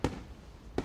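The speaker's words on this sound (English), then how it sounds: "ready to explode in the floret shapes of fireworks" Fireworks explode during a festival night scene in the visual novel Katawa Shoujo, two distant booming bursts with a rumbling tail between them.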